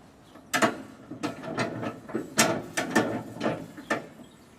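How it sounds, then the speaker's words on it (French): A truck's trailer coupling lock is worked open, giving a series of sharp metallic clicks and clunks in irregular rhythm, close and fairly quiet. "J'ouvre le verrou coupleur."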